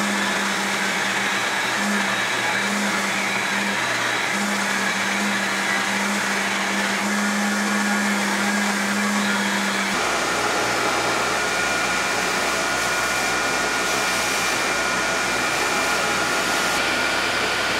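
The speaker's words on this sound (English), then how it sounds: "it's onto the grinder to rough out the profile of the blade" A belt grinder roughs out the profile of a sailor's knife blade, a loud continuous whirring grind with a steady tonal hum that shifts character partway through as the pressure on the steel changes; no one speaks.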